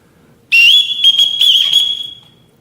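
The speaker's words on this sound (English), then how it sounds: "Everyone in this house answers to a whistle." A shrill whistle sounds loudly in a house, one long blast followed by several shorter trilled bursts that fade out after about a second and a half.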